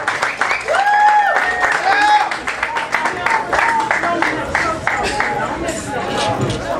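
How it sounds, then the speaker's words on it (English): Audience at a poetry stage event applauds and cheers a performer coming on, dense clapping throughout with whoops and voices mixed into the crowd noise. "Y'all clap them up, y'all."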